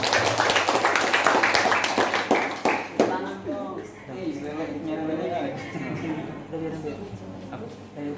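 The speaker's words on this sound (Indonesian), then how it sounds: "kita kasih aplaus untuk Kailila" Applause from an audience for a student presenter at a national scientific paper competition, several seconds of dense clapping that fades as a voice begins speaking.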